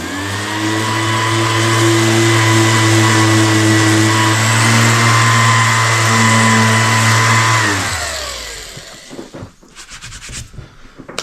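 An electric sander smooths a deep scratch on the fuel tank of a 1983 Yamaha IT 175 dirt bike with 120 grit paper. It drones steadily and loudly for about eight seconds, then spins down, followed by faint handling noises.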